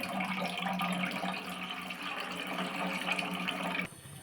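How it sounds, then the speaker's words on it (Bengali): Flattened rice (chira) being washed in water, a continuous close sloshing and running-water wash that stops abruptly near the end, with no talking. "একবার চিড়েটা খুব ভালো করে ধুয়ে নেব।"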